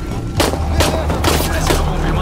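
Several sharp, loud gunshots in Shadow of the Tomb Raider crack in quick irregular succession over a dense low rumble, close and punchy, with no clear talking.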